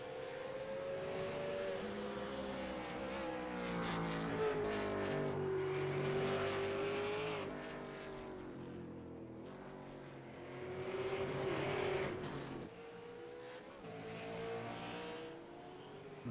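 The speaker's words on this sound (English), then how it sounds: "And Tobias rounds the last corner and will win the round 7 of the ARLTV Supercar V8 Supercar Championship at Mid-Ohio" V8 Supercar race cars at Mid-Ohio, engines roaring continuously as cars scream through corners in round 7 of the championship, loud sustained revving with pitch swells and passes, no talk over it.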